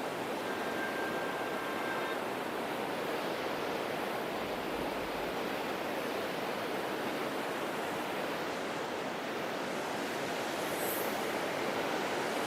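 Water rushes steadily through a stream in Kashmir at night, a constant broadband wash that holds even and loud throughout without any voices.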